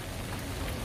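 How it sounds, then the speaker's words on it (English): Rain falling in a Korean street, a brief, even hiss of drops striking the ground, moderately close and uninterrupted, with no voices. "I wait when rain finishes."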